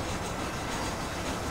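A train rolls along the tracks in Red Dead Redemption, giving a steady broadband rumble and rattle that stays even throughout the short stretch, with no speech.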